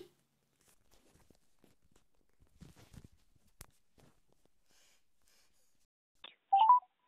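A phone keypad sends a quick run of loud, clear DTMF tones at the end, after several seconds of near-silence broken by faint taps and footsteps.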